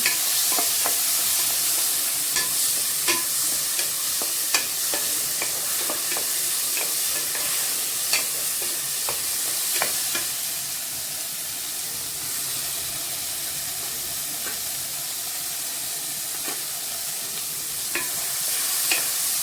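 Tomatoes and onions sautéing in a pan with oil for a mutton bone soup, a steady loud sizzle and hiss running throughout, broken by frequent small clicks and scrapes of a stirring spoon.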